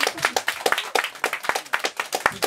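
A concert audience claps in a steady patter of quick, sharp hand claps, fairly thin and moderate in loudness, with no talking over it.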